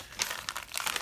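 A plastic bag crinkles and rustles as it is opened, several quick bursts of close crinkling in about a second, with no voices.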